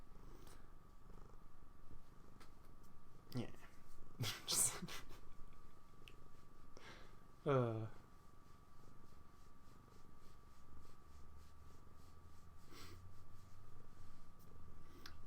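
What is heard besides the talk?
cat purring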